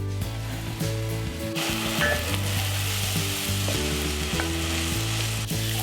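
Chopped onion frying with salt in a lidded pan, a continuous loud sizzle with a low steady hum running underneath and occasional small clinks, no voices.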